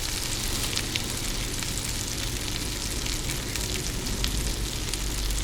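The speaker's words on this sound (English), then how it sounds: "So at least you can hear a little bit of sizzling." Steady, close sizzling of sausage frying in a pan, a dense continuous crackle with no talking.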